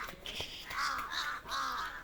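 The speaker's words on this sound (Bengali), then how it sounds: "আর কাক বাকি কাকগুলা কা কা করে চিল্লাচ্ছে" Several crows caw repeatedly in harsh, drawn-out calls that overlap one another, moderately loud against a faint outdoor background, with no voices.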